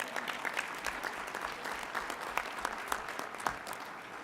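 Dense, steady applause from an audience at a city Black History celebration, many hands clapping at moderate distance with no voices over it.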